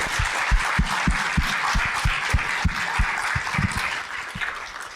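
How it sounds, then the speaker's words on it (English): An audience applauds Secretary of State Shirley Weber, a sustained wash of clapping with distinct individual claps standing out near the recorder, easing slightly toward the end. "let's please give Secretary of State Shirley Weber a huge round of applause"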